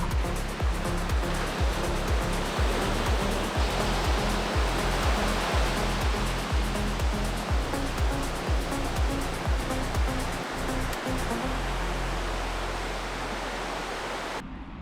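Beach surf at Diamond Head rolls in as a steady, loud wash of broadband noise, with rhythmic low pulses through most of the stretch before thinning out near the end.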